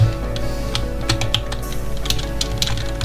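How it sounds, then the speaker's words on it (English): Steady rapid typing on a computer keyboard during a game, with close, crisp clicks, repeated C-key presses mixed in, and no talk. "My recording software actually also records my keyboard, so people are gonna hear me constantly pressing C to click away the giants, the pets."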